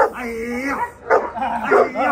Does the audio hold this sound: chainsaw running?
no